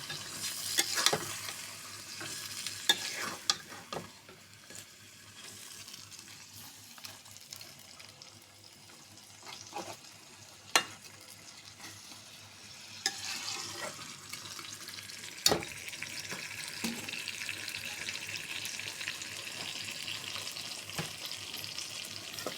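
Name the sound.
stirring and frying prawn curry in a pan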